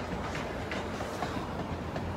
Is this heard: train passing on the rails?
yes